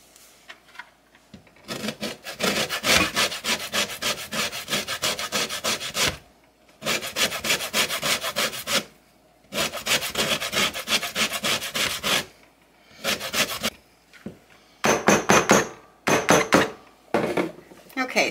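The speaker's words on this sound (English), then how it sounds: "what I'm going to do now is I'm going to grate my orange" An orange rubbed against a grater for carrot cake cream cheese icing makes raspy scraping strokes in several sustained bursts, separated by brief pauses, close and clear.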